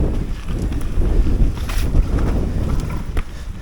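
Wind buffeting a rider's microphone on a wet, rooty, tight mountain bike trail at Olallie near North Bend, Washington, a steady low roar that swells and gusts throughout with no talk.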